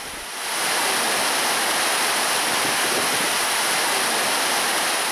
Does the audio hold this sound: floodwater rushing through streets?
yes